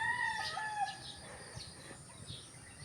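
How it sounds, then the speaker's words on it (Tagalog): Birds calling from the trees in a quiet rural spot, faint chirps and a distant rooster-like crow drifting in and out over a soft background hiss. "Huni na mga ibon."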